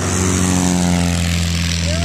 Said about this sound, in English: Here we have some planes coming and going on the runway.